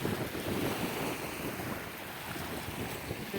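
Wind gusts and water lapping on the shore of Lake Rotorua behind a campsite, a steady, close rush with heavy wind buffeting on the microphone and no talk.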